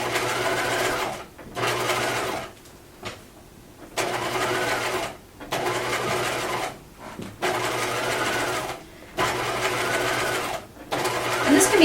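A sewing machine stitches along the long upper edge of a collar in bursts of steady whirring and needle chatter, starting and stopping several times with brief pauses between runs, close and clear.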